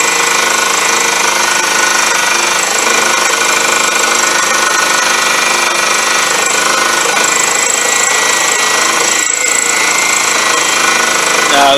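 A Unimat SL1000 mini machine running a fly cutter with no coolant, a loud, continuous, rattling mechanical drone held steady throughout at close range.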